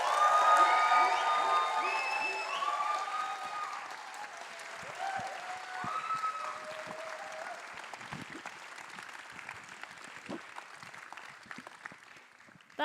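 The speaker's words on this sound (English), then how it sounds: "give a big round of applause for the film's director, Naqqash Khalid" An audience at a film premiere Q&A in Manchester claps and cheers loudly at first, with whoops over the applause, which then thins out into scattered clapping.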